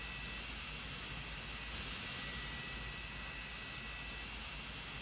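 A simulated PMDG 777-200 jet engine in MSFS 2024 starts up as a steady, loud broadband roar with a constant high whine, heard from outside the aircraft and unbroken throughout.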